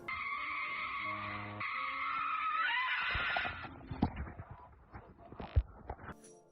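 A woman's shrill, sustained scream in a horror piece about an evil YouTube logo lasts about three seconds, then gives way to a burst of clattering and thumping.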